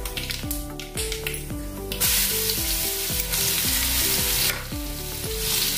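Spice paste frying in hot oil in a pan for a chana dal and onion curry: a loud, steady sizzle broken by repeated scraping stir strokes, with no talking.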